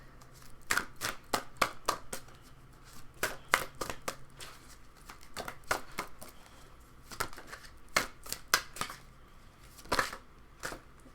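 Tarot cards being shuffled by hand, a steady run of crisp riffling bursts and slaps repeating close to the microphone with brief pauses between them, no talking.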